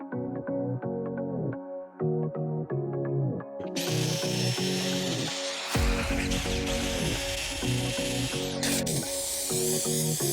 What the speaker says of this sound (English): Glue this 1/2 inch blue foam on.